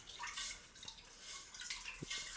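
Thai jasmine rice being rinsed in water, with soft splashing, trickling and a few light drips and clinks of grains and bowl, fairly quiet and close.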